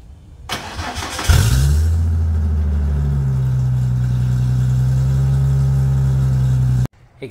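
A New Edge Ford Mustang drift car engine cranks briefly, catches with a roar, then settles into a steady, loud idle that runs for several seconds before cutting off abruptly.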